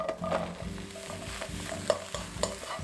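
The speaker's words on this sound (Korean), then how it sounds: "중불에서 가지만 넣고 볶아주세요." Eggplant pieces stir-fried in a pan over medium heat, with a steady background sizzle and repeated scraping and clinking of a utensil in a regular rhythm, up close with no voices.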